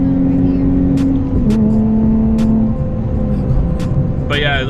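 A Nissan 370Z fitted with an ISR exhaust accelerates during a midnight run, heard from inside the car as a steady muffled engine drone with shifting pitch and brief sharp transients over a constant road roar.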